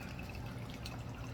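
A drink is poured into a container, giving a steady, continuous liquid pour that stays fairly close and even throughout, with no talking over it.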